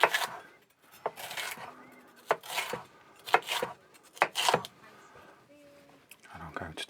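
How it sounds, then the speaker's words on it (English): A knife cutting a green pepper into squares on a board, with a series of close, crisp chopping strokes in irregular bursts and short pauses between them. "And I'm going to cut up the green pepper."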